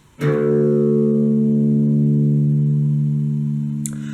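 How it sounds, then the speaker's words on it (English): A guitar's sixth string, tuned down to D, is plucked and rings out with a long, steady sustain, slowly fading, followed by a faint pick click near the end. "you need to tune your 6th string down till it sounds like this"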